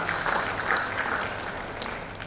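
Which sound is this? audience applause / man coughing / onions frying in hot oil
audience applause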